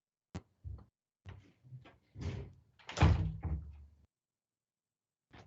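An ordinary room door being shut in a home: a few scattered soft knocks and handling sounds, then a louder thud of the door closing, heard close and alone.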